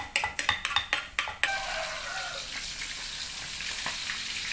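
Mackerel sizzles and spits in a frying pan, opening with a quick series of sharp metallic clanks and scrapes before settling into a steady, close crackle.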